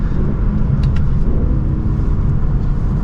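Steady low engine rumble and road noise from inside a moving Lexus sports car, continuous and fairly loud, with a couple of faint clicks.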